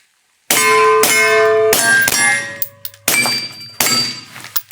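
Suppressed 9mm Springfield Echelon pistol firing hand loads, about five sharp, loud reports in a quick uneven string, each a metallic thunk with ringing clang and short tail, with a brief gap before the last two.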